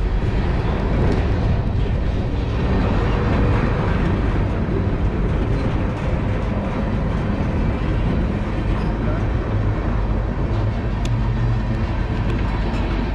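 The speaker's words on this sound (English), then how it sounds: "That's another epically long train." A long freight train rolls past at a mainline crossing, a loud continuous rumble and rattle of wagons on the rails, sustained and close throughout with no pauses.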